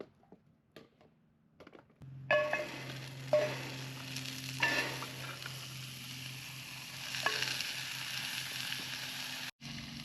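Burgers frying in a pan on an off-grid RV camping trip give a steady close sizzle that starts abruptly after a few quiet taps, with occasional sharper pops and clicks over the constant crackle, and no talking.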